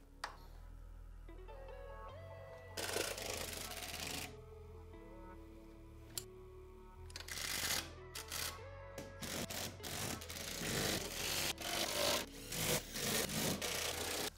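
Bolts being tightened down on a Tusk Quiet-Glide middle skid plate under a Kawasaki KRX 1000: a run of close ratcheting and scraping bursts, some brief and some sustained, with no talk.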